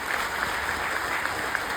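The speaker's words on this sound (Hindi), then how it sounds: "आज उनके लिए एक जोरदार तालियां चाहते हैं।" A brief burst of audience applause at a Kanpur RCM ULP program event, quiet and somewhat distant, with even clapping and no talk.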